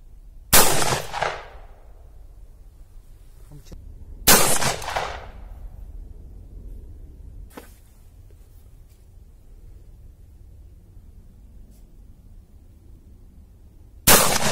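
Hatsan pump-action air rifle firing three sharp, loud shots spaced a few seconds apart, each with a short decaying tail, followed by quiet and a fourth shot at the end.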